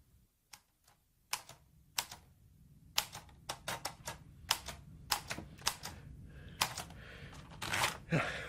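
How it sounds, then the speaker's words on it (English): Typewriter keys struck in uneven bursts of sharp clacks, slowing and speeding as the final copy of a poem's canto is typed, close and distinct over a faint room hum. "It's the final typing of the 9th canto."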